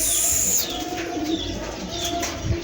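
Pigeons on a pigeon farm coo and flutter steadily at close range, with chirps and wing flaps mixed into a constant low coo.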